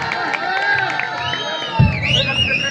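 An audience at a traditional culture program during the Haldwani AGM 2022 bursts into cheering and applause partway through, a sudden loud swell of crowd noise over ongoing music.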